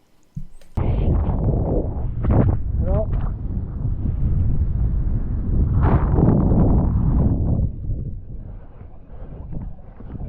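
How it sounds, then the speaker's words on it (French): Strong wind buffets the microphone in a continuous low roar, rising and falling in gusts for most of the clip. "le vent était quand même assez asthmatique par moment"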